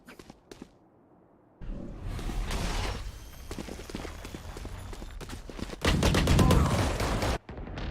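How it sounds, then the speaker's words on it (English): Chamber's ultimate sniper rifle fires during a Valorant match, with sharp loud shots and bursts of gunfire amid game effects and footsteps, rising into a dense stretch of shooting near the end. "Chamber brings out his ultimate sniper rifle."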